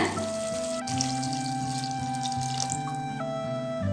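Water runs steadily into a pot of garlic gravy paste for a few seconds, a continuous splashing flow with a faint ringing tone, close by and fairly quiet.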